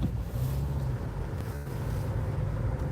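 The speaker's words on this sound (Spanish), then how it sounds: "Vamos a meter segunda al coche." A car engine drones steadily from inside the cabin at night, with a brief dip as the driver shifts into second gear before the engine hum continues, accompanied by road and wind noise.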